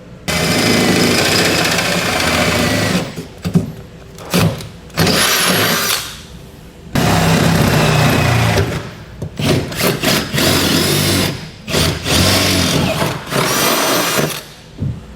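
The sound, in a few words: power drill enlarging holes in Ford F-350 frame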